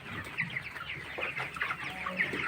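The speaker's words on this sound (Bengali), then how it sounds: "পানি খাচ্ছে, খাবার খাচ্ছে মুরগিরা" Twenty-one-day-old broiler chickens in a poultry shed cluck and chirp while eating feed and drinking water, many overlapping calls from a flock in a busy, continuous chatter.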